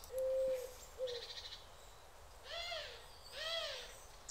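Bird calls from the adventure game Bud Tucker in Double Trouble, meant as a vulture or crow: a couple of short hooting tones followed by two harsher, rising-falling squawks, fairly faint and without voices.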